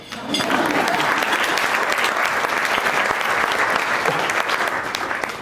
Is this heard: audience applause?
yes